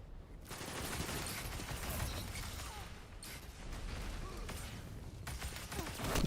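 Rapid gunfire and shotgun blasts from a close-range firefight in the online shooter game Marathon, a dense continuous barrage of overlapping shots.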